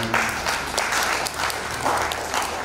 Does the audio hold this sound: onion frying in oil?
no